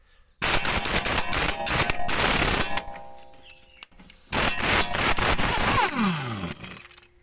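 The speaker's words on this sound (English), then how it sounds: "with a rattle gun, kind of eliminates the need to do that, because it rattles it off as opposed to wrenching it off" A rattle gun impact wrench removes a nut while steering rack mount bushes are changed on a Toyota Estima: loud, close hammering bursts, a long run, a quieter gap with faint clinks, then another long burst.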